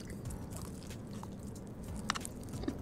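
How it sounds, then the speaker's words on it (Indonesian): Crunchy, close-up chewing and biting of spicy Richeese fried chicken neck bones at a mukbang, a steady crackling grind with a couple of sharper crunches near the end and no talking. "Tulangnya aja bisa dimakan ya. Kriuk banget."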